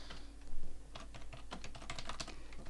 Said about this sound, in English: Type a comma again.